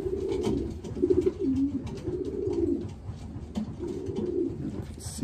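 A racing pigeon hen coos steadily while held in the hand, her soft, close, rolling calls repeating throughout with brief pauses between phrases.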